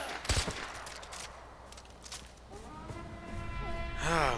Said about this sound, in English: I freaking shot a civilian.